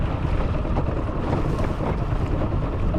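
A duck boat motor idles out on choppy water, a steady low rumble buried in heavy wind buffeting and splashing, loud and continuous with no voices.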